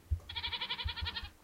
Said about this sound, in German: ist eine Ziege. Die hat mich gerade begrüßt mit einem lauten Mäh.